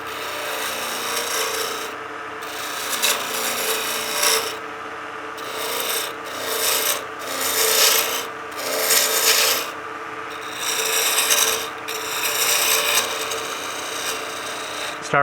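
Spindle roughing gouge cutting a wooden pizza cutter handle on a lathe, a steady loud rasping shave that swells and fades in repeated passes, with brief pauses between cuts and no talk.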